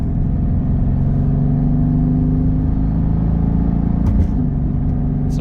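A 2018 Mercedes-AMG GT C with an Eventuri intake runs with a deep, steady engine drone and low rumble from inside the car, and the engine note shifts slightly near the end.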